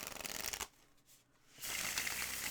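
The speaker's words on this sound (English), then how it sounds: "it shuffles really well." A deck of cards is shuffled twice, a dense papery riffle, then a brief near-silent pause, then another longer riffling burst, close and fairly quiet.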